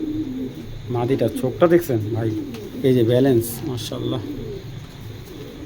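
Racing pigeons, a breeding pair, coo softly in low, throaty tones close by, partly under someone talking.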